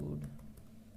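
Someone types C code on a computer keyboard, producing a few quiet, scattered key taps over a low background hum, faint and close.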